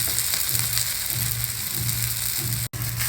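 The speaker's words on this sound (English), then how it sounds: "Over a medium flame, cook it with a little bit of oil all around it." Ragi methi adai cooking in a little oil over a medium flame, a steady close sizzle and crackle of frying that runs throughout, broken by one abrupt instant of silence near the end.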